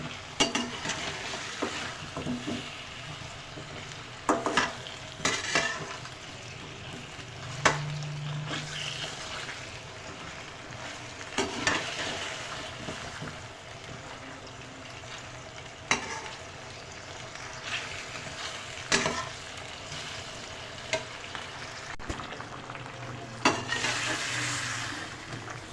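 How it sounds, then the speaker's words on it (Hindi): Potato slices sizzle steadily in a pan as a spoon keeps stirring them, adding scraping clicks at irregular moments throughout. The sound is close, with no talk. "आपने मुसलसल स्पून हिलाते रहना है कि ये नीचे चिपके ना।"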